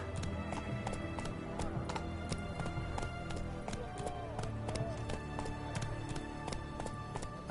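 Horse galloping in the Witcher video game, rapid rhythmic hooves clattering steadily and close, with a rider's brief shout and some faint whinnying over the game's background sound.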